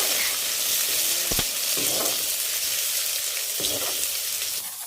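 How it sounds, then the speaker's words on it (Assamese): Chopped tomatoes and green chillies frying in hot oil in a pan for a mutton dish, with a steady close hiss and a few scraping stirs, no talking. "আৰু ইয়াতে আমি কাটি থোৱা বিলাহী আৰু কেঁচা জলকীয়াও দি দিম। অলপ সিজিব দিব।"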